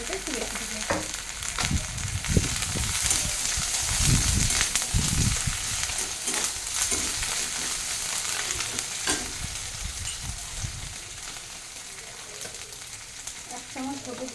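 Olive oil sizzles and crackles loudly in a pan for pabda fish curry, with a dense, continuous frying hiss and occasional stirring scrapes up close.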